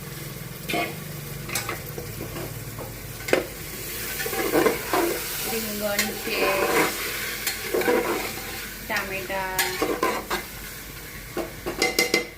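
Vegetables for Gujarati vaghareli khichdi, including pigeon peas, flat beans, potatoes, brinjal and tomato, being stirred in a hot pan: steady sizzling with repeated scraping and clinking spoon strokes, while a person speaks briefly.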